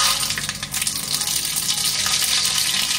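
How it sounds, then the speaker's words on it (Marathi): Cumin and mustard seeds dropped into hot oil in a kadhai for a sprouted moth bean usal, a dense continuous crackling sizzle heard close and fairly loud, no voice. "आता तेल गरम झालेलं आहे. आता आपण जिरं मोहरी टाकून घेऊया."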